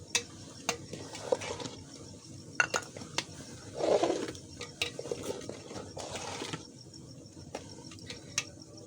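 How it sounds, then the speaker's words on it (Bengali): Spices stirred into vegetable khichdi with egg in a pot make soft scraping and occasional sharp clinks of a spoon against metal, spaced irregularly, over a faint low simmer, close and quiet without talking. "সুন্দর করে একটু নেড়ে ছেড়ে দেবো যেন সব দিকেই গরম মশলা মিক্স হয়"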